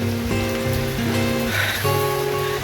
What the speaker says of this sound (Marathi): पाऊस आहे खूप जोरात गावाला